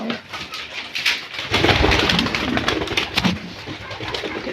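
Pigeons cooing in a coop where some birds sit on eggs, a steady murmur of soft coos with rustling and movement close by, fairly loud and continuous with no talk.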